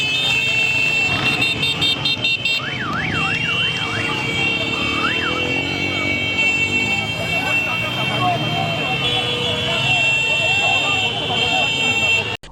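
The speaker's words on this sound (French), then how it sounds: "Des taximens se sont mis à klaxonner pour manifester aussi leur indignation." Taxi drivers honk car horns in protest on a street in DR Congo, a loud, continuous blare of overlapping horns with wavering alarm-like tones on top and crowd noise underneath.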